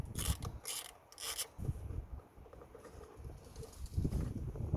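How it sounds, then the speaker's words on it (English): An 8mm socket and ratchet undo the single bolt securing a camshaft position sensor on a BMW Mini Countryman Prince engine, giving close, repeated rasping clicks and scrapes in short bursts with no talk. "we're going to be using a 8mm socket to undo the bolt"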